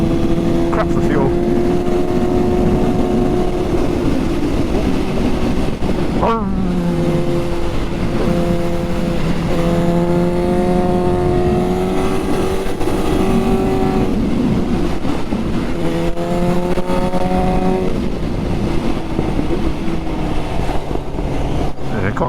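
Suzuki GSX-S750 motorcycle fitted with a Dynojet Power Commander, its engine droning loudly through rising and falling revs with exhaust pops mixed in, heard up close while a rider talks over it.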